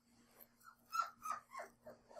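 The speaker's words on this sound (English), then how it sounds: "Oh my god, shut up, puppy!" Puppy barking and whimpering in short yips and whines, several bursts across the clip, fairly faint and in the background without talk.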